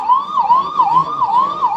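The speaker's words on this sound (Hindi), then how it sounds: "एम्बुलेंस है, निकल जाने दीजिए, उसको रास्ता दे दीजिए।" An ambulance siren wails loud and close with a regular rising and falling electronic tone cycling about every half second, dominating a street near an outdoor political rally.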